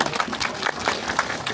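Audience applause at a city council member's public activity report meeting, a short burst of scattered clapping from a crowd, moderately loud and close.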